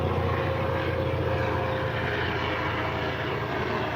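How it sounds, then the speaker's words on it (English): A police helicopter passes overhead in Arkansas, a loud, steady rotor and engine roar that holds constant for the whole stretch. "Police helicopter, ghetto bird in Arkansas."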